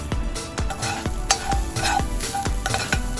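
Spoon stirring a sautéing sweet pepper filling seasoned with salt in a pan: quick repeated scraping strokes roughly every half second over a steady sizzle, with light clinks of utensil on metal, close up.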